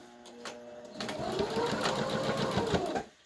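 Sewing machine stitching through several layers of woven mask fabric, its motor running in a steady, close, rapid whir that strains and slows before stopping, with no talk.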